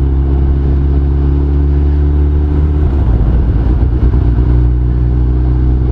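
A 2002 Suzuki GSX1300R Hayabusa sport motorcycle cruising through town, its engine a steady loud drone with harmonic hum that shifts in pitch midway as the rider changes speed.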